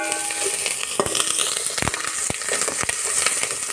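Onion fries in oil with curry leaves and asafoetida, a close, crackling sizzle punctuated by sharp clattering knocks and scrapes at irregular moments.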